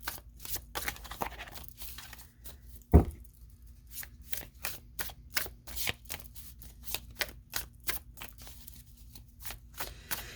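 Tarot cards are shuffled and handled close up, with a run of crisp, rapid riffling flicks and snaps, one sharp slap partway through, and no talking.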